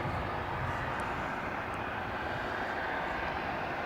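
An Airbus A321 airliner at DFW International Airport produces a steady, distant jet engine roar with a broad, even rush of sound and no talking.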